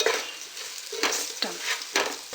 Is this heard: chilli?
yes